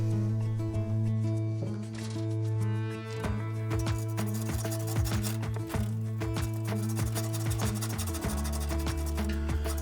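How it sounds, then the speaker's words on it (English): Sandpaper scrubs the tongue of a heater fan connector from a chicken incubator, making quick, close rasping strokes in an uneven rhythm. A steady tonal hum runs underneath throughout. "Then I used a little sandpaper to clean the tongue from the connector at the fan."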